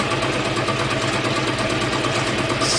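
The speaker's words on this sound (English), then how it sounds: "It's definitely affected the RPMs of the turbine as well." Small hydroelectric turbine generator spun by faucet water, a steady loud mechanical whir with a constant droning hum and rushing water noise, continuous and close with no talk.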